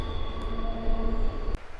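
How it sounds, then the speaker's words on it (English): A long train rolls past on the tracks near an abandoned quarry road, a close, steady rumble with a high metallic whine and squeal that cuts off abruptly near the end. "There's a long train."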